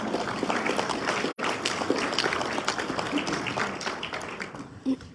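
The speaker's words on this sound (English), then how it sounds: "Let's give him a round of applause." An audience at a marathon closing ceremony and awards event applauds the board president, a steady dense clapping that fills the clip, with a brief dropout partway through and faint voices underneath.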